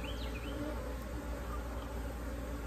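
Honeybees in a winter hive drone in a steady, dense buzz throughout, with individual bees whining past close by over the constant hum of the colony.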